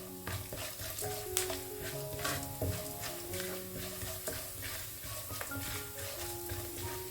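Fenugreek seeds hit hot oil for a restaurant-style potato bhaji curry, producing a dense, continuous close sizzle with scraping stir sounds. Faint tonal background runs beneath it.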